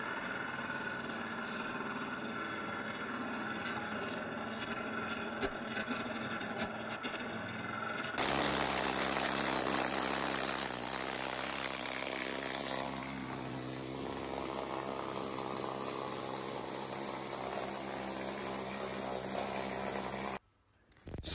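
An angle grinder grinds weld beads flat on the steel hull of an FV4005 tank in a workshop, a steady loud buzzing drone that shifts pitch and grows harsher midway before cutting off near the end.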